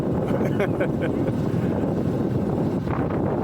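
Strong wind blows along the Mekong riverside, a steady, loud rumbling roar buffeting the microphone throughout, with a brief faint voice near the start.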